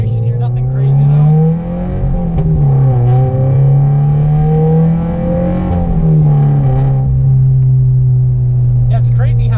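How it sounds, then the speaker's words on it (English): A loud modified 2013 Scion FR-S exhaust note rises in pitch as it accelerates, dips briefly at each gear change, then climbs again, close and continuous throughout. "all you can hear is exhaust note. So we're gonna get a little bit of an acceleration here"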